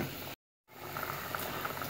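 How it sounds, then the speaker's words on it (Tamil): A steady bubbling simmer of dried fish curry in a pot on the stove, briefly cut by a moment of silence, then continuing with soft pops and hiss. "இப்போ வந்து நல்லா கொதிச்சிருச்சு"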